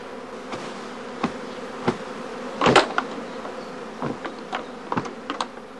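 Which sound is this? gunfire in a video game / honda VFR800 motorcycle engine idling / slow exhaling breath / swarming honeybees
swarming honeybees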